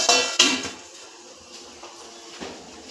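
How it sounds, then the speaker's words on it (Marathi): A metal lid set down on a cooking pan with onions inside, giving two bright clanks close together near the start, followed by a quieter rattle and a faint clink later. "दोन मिनिटं हा कांदा शिजेपर्यंत आपण झाकण ठेवायचं आहे"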